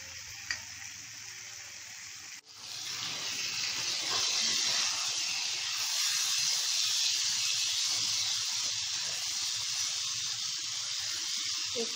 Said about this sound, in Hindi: जो साइड भिंडी की फ्राई हो चुकी है उसे पलटते रहें आप धीरे धीरे